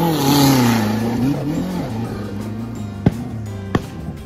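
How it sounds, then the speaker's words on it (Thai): Off-road race car engine roaring loud and close at an off-road racing event in Kanchanaburi, Thailand, its revving pitch rising and falling steadily, with two sharp popping bangs near the end and no talk. "เสียงแผดของเครื่องยนต์นะครับรวมทั้งเสียงระเบิดดังปึดปึดของทอยเสียครับ"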